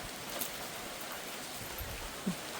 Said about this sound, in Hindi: ऊपर से ओले भी पड़ रहे हैं, ओले।